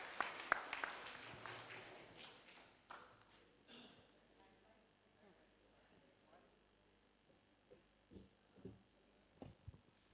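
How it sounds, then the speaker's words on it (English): An audience at a book event for a chronicle of Lucknow breaks into applause that swells briefly and then fades into scattered claps and taps. "a big round of applause for Ms. Zareen Vikaji."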